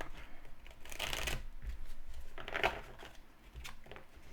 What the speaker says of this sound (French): on reprend les cartes énergie. On mélange une fois.